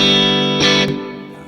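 Electric guitar played through a Strymon Flint reverb pedal on an 80s setting: a sustained, harmonically rich chord washes out, a brighter strum accent cuts in, then the reverb tail decays smoothly, loud and close with no talking.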